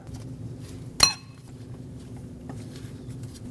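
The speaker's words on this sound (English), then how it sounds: "Stick a new cotter pin through, and this one's the type that we have to bend over to lock in" A new cotter pin is bent over through a castle nut on an inner tie rod of a 2006-2015 Lexus IS250, giving a single sharp metallic clink up close over a low background hum.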